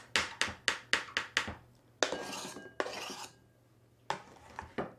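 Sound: chopping peeled kiwifruit into small pieces

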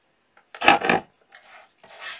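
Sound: deckle trimmer cutting paper for journal layout

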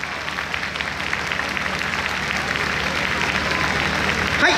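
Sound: audience applause at outdoor festival

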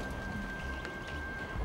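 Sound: rain pouring down, storytelling sound effect

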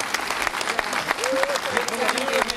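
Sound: audience applause for the first lady

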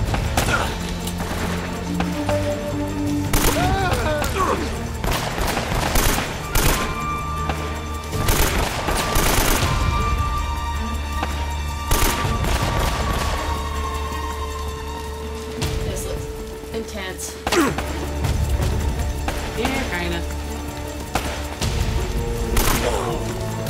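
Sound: gunfire in a gunfight, from the video game Uncharted

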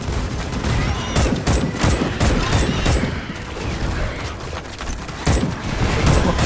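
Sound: gunfire from a teammate in Starship Troopers: Extermination video game

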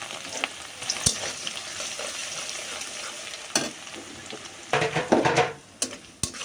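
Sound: dried chillies, onion and garlic frying in oil in a wok

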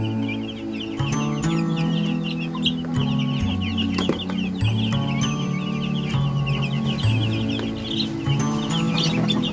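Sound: Chinese silkie chickens clucking

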